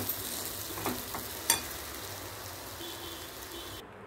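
Coconut filling for salt kozhukattai is stirred in a pan with a soft, continuous sizzle and scraping, with a sharp clink of the spoon about midway.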